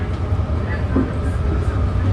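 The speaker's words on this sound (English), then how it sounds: "Here goes the blue line air train." Blue line airport air train at San Francisco International, heard from a BART train near Millbrae as a steady low rumble and hum beneath someone speaking, loud and continuous throughout.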